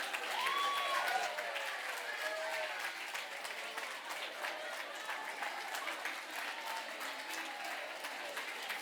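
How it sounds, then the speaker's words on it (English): Conference audience at a medical talk giving a wild round of applause, sustained clapping from a large room that holds steady for several seconds, with a few whoops and cheers rising over it at the start. "Get up and give yourself a very wild round of applause."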